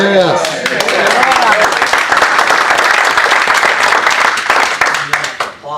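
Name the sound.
audience applause at a town hall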